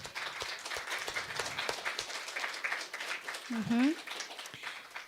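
Congregation applauding a church board of trustees, moderate clapping spread through the room, with a brief voice and a short tonal sound near the end.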